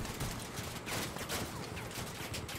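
Rapid continuous gunfire from the vehicle combat game Crossout, a dense burst of overlapping shots fairly quiet and distant, with no talk.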